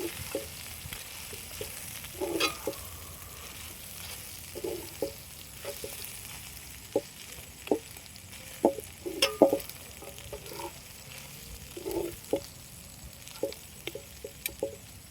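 White rice is stirred into chicken satti soru in a pan, with soft scraping and stirring scuffs at an irregular rhythm over a faint sizzle, close and quiet, with no talking.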